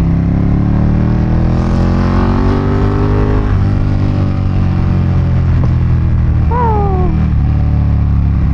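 A Ducati 959 Panigale sport motorcycle engine hums and revs steadily while riding, close and continuous, with rising and falling pitch as it accelerates.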